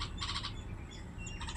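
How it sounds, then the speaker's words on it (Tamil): A hoopoe calling in a village: two short bursts of quick, repeated chirping notes, one near the start and another at the end, with a faint, steady background in between. "ஹுத் பறவை"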